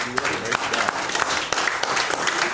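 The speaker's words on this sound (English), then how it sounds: "Give the Lord a hand clap again." Church congregation at a Sunday service claps hands for the Lord, a loud, dense burst of clapping filling the room, with some voices mixed in.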